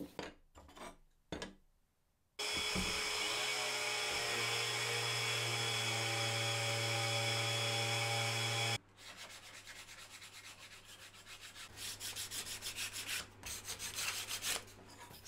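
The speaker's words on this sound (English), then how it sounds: "I'm gonna give them all a sand down again with the electric sander" An electric sander works over glued-up wooden toast tongs, a loud, steady whirring grind lasting about six seconds after a few short knocks, then giving way to a rougher, fluctuating scraping noise.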